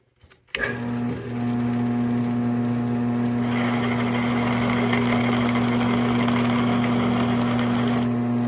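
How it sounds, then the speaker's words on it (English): A drill press motor starts with a click and spins up to a steady loud hum, then a harsher grinding whir joins midway as it drills a pilot hole for a woodworm screw. "we're going to drill a pilot hole for our woodworm screw using the drill press"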